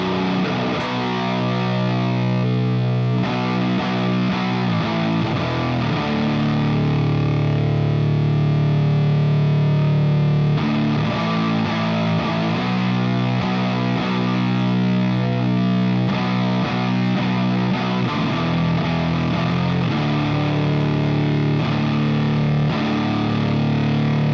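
An electric guitar played through a free fuzz pedal set for a doom tone grinds out thick, heavily distorted sustained chords with low, droning weight, loud and continuous with no voice.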